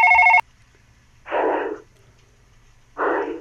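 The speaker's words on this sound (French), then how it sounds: "Quelqu'un sonne à mon bureau." An office desk telephone in a video game rings with a short electronic tone, followed by two bursts of buzzing ring spaced about a second and a half apart, close and fairly loud.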